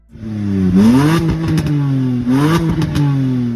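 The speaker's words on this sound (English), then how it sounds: "The N52 also has an impressive sound, which can be further enhanced by removing the center and rear mufflers." A BMW N52 3-liter naturally aspirated straight engine revs up twice, each time rising in pitch and then falling back, loud and close with a strong harmonic exhaust note and no talking.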